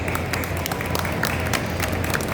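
Audience applauding for Joseph Zárate at a talk, a steady dense patter of many hands clapping close by, filling the whole stretch without pause.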